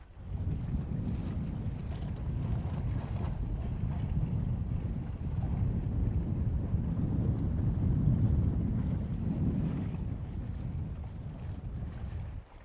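Wind buffets a microphone outdoors on Florida's Space Coast at a rocket launch viewing spot, a continuous low rumbling roar that swells and eases without a break.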